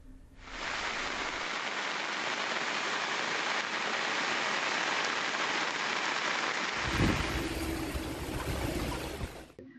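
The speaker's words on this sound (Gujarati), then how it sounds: "નવસારી શહેરમાં આજ બપોરથી ત્રણ વાગ્યા સુધીમાં એક ત્રણ કલાકમાં ત્રણ ઇંચથી વધુ વરસાદ ખાબક્યો છે" A heavy afternoon downpour over Navsari city roars as a dense, steady wash of rain that runs unbroken for the whole stretch, with no voices.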